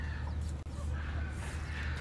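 Chickens cluck softly in a low, murmuring background, fairly faint, with a steady low hum underneath.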